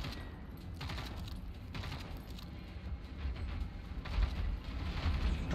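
Distant gunfire in the video game Generation Zero, a continuous rattle of shots and booms that grows louder toward the end, with no voices.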